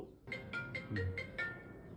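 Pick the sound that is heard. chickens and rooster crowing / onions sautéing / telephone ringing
telephone ringing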